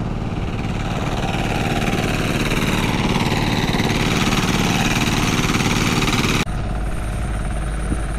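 Two engine-driven machines run continuously in a flooded rice field, a loud, steady mid-pitched drone with a rough rattle, one cutting out abruptly near the end while the other keeps going.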